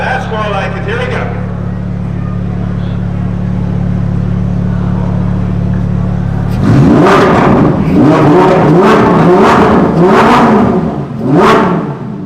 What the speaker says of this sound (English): Do you guys want to hear the Performante?